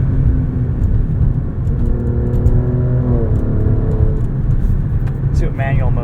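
A 2022 Alfa Romeo Stelvio Quadrifoglio engine revs hard and climbs in pitch through several quick upshifts, loud and close from inside the cabin, with a steady road rumble underneath.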